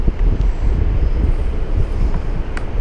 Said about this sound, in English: with the wind picking up